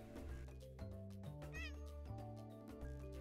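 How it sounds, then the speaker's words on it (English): Cartoonish cat meows from the video game Cattails Wildwood Story, several short, cute mews in quick succession over a light background music bed. "I love the little meow sound effects in this game."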